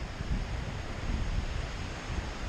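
Steady wind buffeting the microphone outdoors on a mountain trail near Donner Pass in the Sierra, a continuous rushing roar with no voices.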